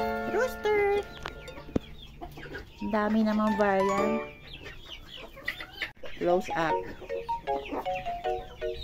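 A fighting rooster clucks and gives short harsh calls close by, several bursts in a row, while a person talks over it.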